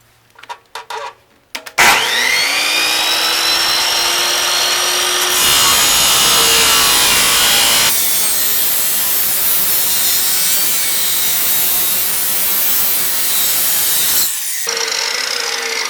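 A power saw cuts off a piece of a 1968 Mustang A/C and power steering bracket, starting after a few clicks and whirring through a loud, continuous cut of about twelve seconds before spinning down.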